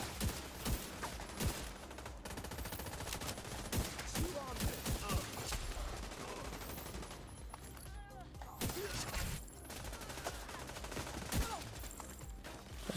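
Dense gunfire from The Division 2 third-person shooter, repeated bursts and rapid shots layered over game effects and a talking player throughout, steady and loud across the stretch.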